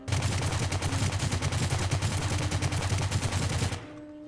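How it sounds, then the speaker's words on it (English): AK rifle fired on full auto in the Rules of Survival video game, a loud, rapid, unbroken string of close gunshots lasting nearly four seconds before stopping abruptly into a faint tail, no talking. "Okay, so the AK kicks a ton vertically."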